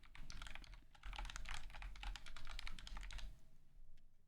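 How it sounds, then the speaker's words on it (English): Rapid typing on a computer keyboard, with steady clustered keystrokes clattering close by for several seconds and then tapering off, with no talk over it. "You were hearing it as I was typing on the side."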